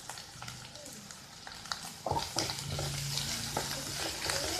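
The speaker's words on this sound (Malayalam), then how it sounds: "ഉപ്പ് ഫസ്റ്റ് തന്നെ ചേർത്ത് കഴിഞ്ഞാൽ പെട്ടെന്ന് തന്നെ ഈ സവാള വഴന്ന് കിട്ടും." Sliced onions with salt sautéing in a pan, a soft sizzle that swells after a stir, with light scraping and clinking of the spoon against the pan, fairly quiet and close, no voices.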